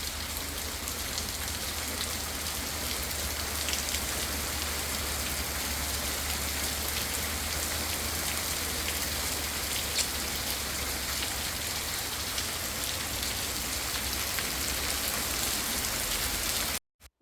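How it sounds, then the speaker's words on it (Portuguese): Steady rain falls on a farm in the countryside, a dense, even hiss of drops on surfaces that runs unbroken for about seventeen seconds before cutting off abruptly, with no voices. "Até tem uma imagem que eu gravei aí da chuva chegando."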